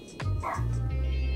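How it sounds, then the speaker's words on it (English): Dogs in a room behind a city-building game session, giving a few close yips and whimpers over a steady low background hum. "My dogs have come to say hello again today."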